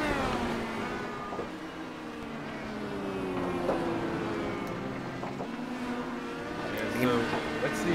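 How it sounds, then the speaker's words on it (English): A race car, the DW12, slides around Charlotte Road in a racing video game, its engine a steady droning whine with shifting pitch that swells and fades slightly, no voices over it. "He's sliding the car."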